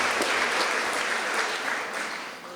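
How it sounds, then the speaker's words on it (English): An audience at an environmental award ceremony applauds, a dense, even patter of many hands clapping close by, fading slightly toward the end. "So let's give our friends a round of applause"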